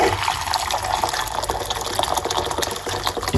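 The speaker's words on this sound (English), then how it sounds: "we're gonna put 1 cup of hot water" One cup of hot water is poured into a pot for a Jamaican parsley and lemon tea. The liquid splashes and gushes steadily and close by for a few seconds.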